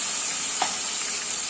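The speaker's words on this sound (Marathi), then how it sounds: "जी पेस्ट करून घेतली ना हे पण टाकून मस्त फोडणी फ्राय करून घेऊया" Spice paste with cumin seeds frying in hot oil as tempering for soybean bhaji, a steady loud sizzle and hiss throughout with a brief stir or splutter midway, no voices.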